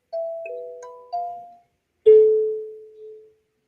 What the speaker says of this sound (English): A kalimba is a percussion instrument in which when plucked with your thumbs, it plays a gentle ringing sound like this.